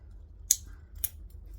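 Scissors snip sewing thread twice, two crisp, close cuts about half a second apart over a low hum, with no talking.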